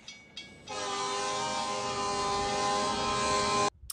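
Train horn in the Western film Back to the Future Part III, a loud sustained chord-like blast lasting about three seconds over rumbling rail noise, cutting off abruptly.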